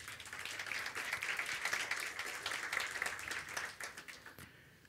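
Church congregation applauding during a sermon, a moderately distant, even wash of clapping that swells, then thins out and fades over the final second.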